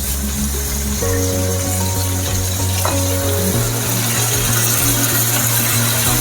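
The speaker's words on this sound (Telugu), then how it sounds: "మనం ఈ పుదీనా వేసి ఒక్క నిమిషం ఫ్రై అయిన తర్వాత మనం కట్ చేసి పెట్టుకున్న టమాటాను కూడా ఇందులో వేసేద్దాం" Mint and chopped tomato fry with browned onion in a pan for prawn pulao, giving a steady, loud sizzle that hisses continuously alongside a low background hum, with no voices.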